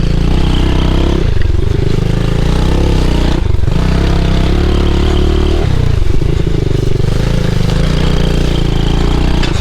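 A mini bike engine revs loudly and steadily while riding laps on a dirt track, its buzzy drone dipping briefly at a few points as the rider shifts or eases off, close and continuous throughout.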